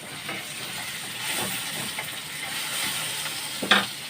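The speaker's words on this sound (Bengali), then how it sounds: "পেঁয়াজটাকে ভাজবো আর টমেটোকেও ভাজতে দেবো।" Chopped onions and tomatoes sizzle and fry steadily in a pan, a continuous close hiss with occasional stirring scrapes and a brief clatter near the end.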